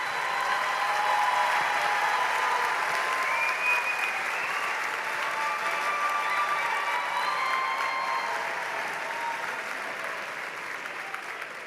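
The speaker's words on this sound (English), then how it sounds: "Let's have a big round of applause for all these graduates." Sustained applause from a large audience honoring university graduates at a commencement ceremony, steady and dense throughout, slowly tapering toward the end with no voices over it.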